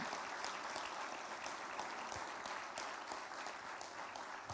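A church congregation applauds after a sermon, giving a continuous, fairly soft patter of many hands clapping throughout, with no speech on top.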